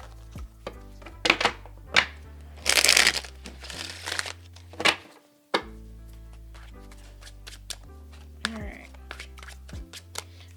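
Tarot cards are shuffled, with crisp riffling bursts, then pulled and laid down in sharp taps and soft slaps, close by and under a speaking voice.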